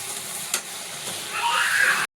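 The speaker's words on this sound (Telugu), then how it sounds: "ఇందులో కొంచెం కరివేపాకు వేస్తున్నాను." Curry leaves hit hot oil in a pan of chicken curry, giving a steady broadband sizzle with a couple of brief crackling pops, then swelling louder and hissier toward the end before stopping abruptly.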